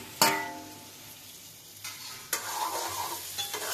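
Potatoes sautéing with teasel gourd and pointed gourd in a hot pan: a steady sizzle runs throughout, broken by a sharp metallic clank of the spatula at the start and further stirring scrapes later, close and with no talk.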